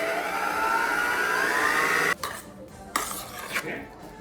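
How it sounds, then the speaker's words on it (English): An electric mixer whisks cupcake batter, its whine climbing in pitch as it speeds up, then cutting off abruptly, followed by a few light clinks of utensils against the bowl. "then you whisk. Starting at low speed and then"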